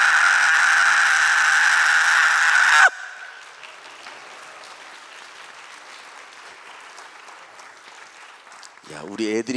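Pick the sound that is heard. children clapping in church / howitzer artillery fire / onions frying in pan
children clapping in church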